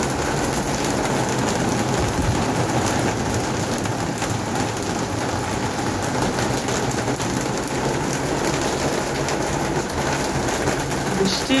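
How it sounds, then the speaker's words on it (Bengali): Heavy monsoon rain in Mumbai pours down in a dense, unbroken hiss, drumming steadily on nearby surfaces and a shelter throughout, with no one speaking. "বৃষ্টি কি জোরে বৃষ্টি হচ্ছে দেখছেন"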